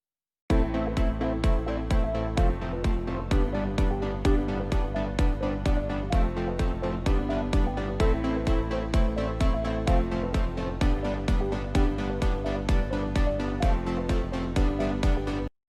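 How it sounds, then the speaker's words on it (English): EDM pre-chorus built from a bass line, punchy four-on-the-floor kicks and a low-passed main melody, playing loud and steady in a tight repeating rhythm throughout with no voices. "So for the pre-chorus, I'm using a bass, kicks, and the main melody with low pass on it,"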